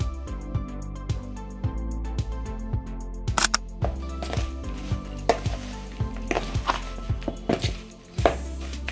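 Chironji and raisins being mixed in a pan for a dawat dish, with sharp scraping and tapping strokes of a spoon against metal in an uneven rhythm, close and fairly loud.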